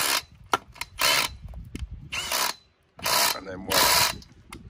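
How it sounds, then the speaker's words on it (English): A drill bores a couple of holes through the main ski pylon pole, cut to about six feet, for a Bayliner Cuddy 210 boat. There are several loud, grinding bursts with short pauses between them, and a voice speaks briefly. "So we're drilling a couple of holes in the main ski pole"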